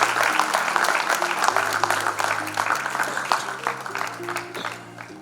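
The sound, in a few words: applause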